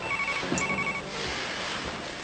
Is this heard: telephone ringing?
yes